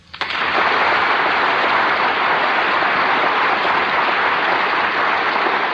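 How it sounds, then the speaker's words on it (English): A large audience applauds at a radio drama broadcast, the clapping swelling within half a second into a steady, dense roar that holds at full strength to the end, with no voices. "I should like to ask that all of you join Jane and myself in applauding him."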